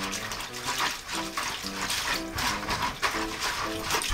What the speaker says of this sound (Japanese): 水気を切ってきた青ネギにもう一度水を入れて、もみ洗いしてください。